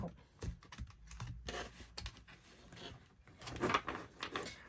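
Cards of a tarot deck riffle and slap together in quick, uneven bursts of crisp papery clatter, close and moderately loud, with brief pauses between shuffles and no talking.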